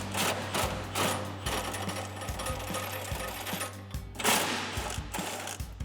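An 18mm socket on a swivel adapter and extension spins nuts off a 2020-2026 Sierra 2500 rear bumper, giving rapid mechanical rattling bursts broken by short pauses.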